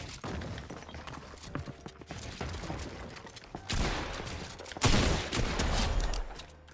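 Rapid bursts of video game gunfire crackle during an online 1v1 fight, loud and dense with a heavy burst near the end over busy in-game noise.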